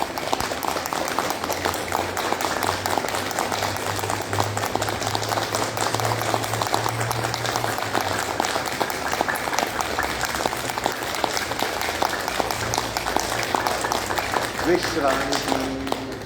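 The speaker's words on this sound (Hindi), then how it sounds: "सातवीं क्रिया, ताली बजाएंगे।" A group claps rapidly and steadily as part of a yoga exercise, producing a continuous dense patter of hand claps with a low musical drone underneath.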